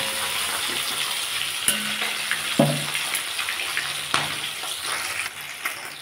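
Tilapia fish fries in hot oil in a pan, a steady bright sizzle and crackle with a few sharp pops and clinks, and no talking.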